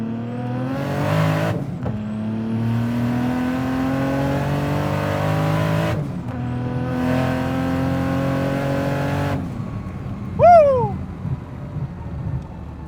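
Single-turbo 500 hp Nissan Skyline R32 pulls hard in second gear from about 4,000 rpm, the engine note climbing steadily through two shifts, close and loud, followed by a sharp whistling turbo chirp.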